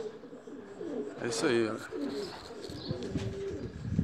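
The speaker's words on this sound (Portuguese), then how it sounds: "Os pombinhos, os filhotes aí, ó." Young pigeons make soft cooing calls close by, mixed with light chirps and wing flutters, with someone speaking briefly over them.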